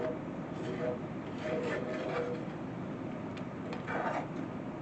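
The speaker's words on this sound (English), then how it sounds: "it's already thickened up just with me scraping the sides and the bottom" A spoon scrapes the bottom and sides of a pan of hamburger gravy, giving a soft, steady rubbing scrape with a few louder strokes. A person talks over it.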